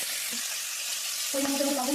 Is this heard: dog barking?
no